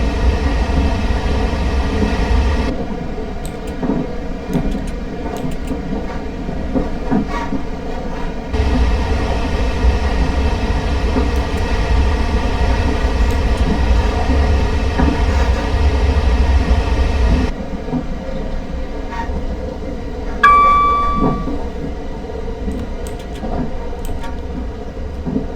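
A Class 444 electric train runs and brakes in Train Simulator 2017 on a South Western Railway route to Portsmouth, with a steady low rumble and motor hum, shifting tonal whines and a brief high brake squeal near the end.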